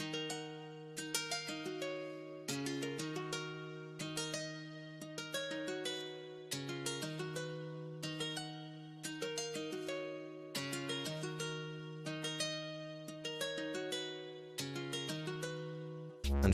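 Nylon-string guitar plays a simple repeating plucked pattern, phrases of bright picked notes over a sustained low bass tone, recurring steadily with short pauses between cycles, close and clean with no voices.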